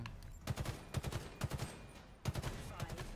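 Weapon fire in a Halo Infinite training drill, quick bursts of three or four shots repeating every half second or so, with a short pause before a final string, moderately quiet.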